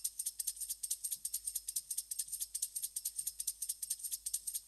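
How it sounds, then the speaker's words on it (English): Tambourine-like jingles from the end of a break sample, a quick steady rhythmic shimmer of bright metallic shakes, faint and alone. "you've got like this bit at the end which is kind of a tambourine"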